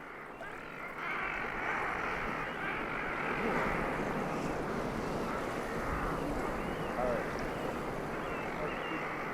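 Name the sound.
ocean waves breaking on shore, heard from a Zodiac boat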